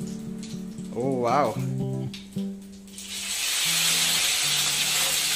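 Curry leaves hit hot oil with cumin for kande pohe, setting off a bright, steady sizzle and crackle that swells and holds. Voices speak over the start, and the sizzle continues close and loud afterward.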